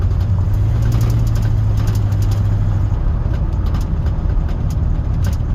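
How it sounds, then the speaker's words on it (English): Square-body Chevy truck engine pulling steadily in third gear, a loud continuous low rumble with a droning tone that holds then eases, heard up close from inside the cab with no talking. "There's third gear."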